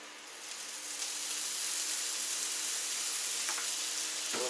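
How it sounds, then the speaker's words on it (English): Bacon fat sizzling and frying on a Camp Chef FTG600 flat top griddle, a steady, dense crackle that swells after the first moment and holds loud throughout, with a couple of sharper pops near the end. "Let's go ahead and get some of this bacon fat down."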